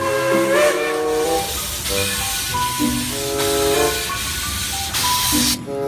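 Loud hissing steam with a sustained whistle-like tone from a toy train, rising and repeating several times, continuous and close, with no talking.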